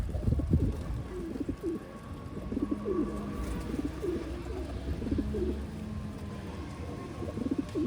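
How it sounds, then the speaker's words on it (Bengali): Racing pigeons coo repeatedly in a loft, low throaty rolling calls overlapping one another at close range above a faint background hum, with no speech. "এই দেখেন দর্শক রেসার কবুতর কত ডাকাডাকি করে ডিম দেওয়ার জন্য"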